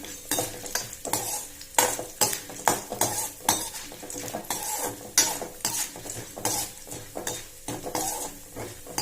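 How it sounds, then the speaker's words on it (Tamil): Mustard seeds, urad dal and chana dal sautéed in a pan, a spatula repeatedly scraping and clinking against metal in a brisk rhythm over a light sizzle, close and clear. "கடுகு நல்லா பொரிஞ்ச பிறகு உளுத்தம் பருப்பு, கடலைப்பருப்பு எல்லாம் ஆட் பண்ணிக்கலாம். லேசாக வதக்கிடுவோம்."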